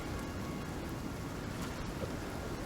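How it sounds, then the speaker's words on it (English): Steady rain falling in the survival game Icarus, a dense even hiss with no pauses, fairly quiet and heard alone without talk. "It's raining, though."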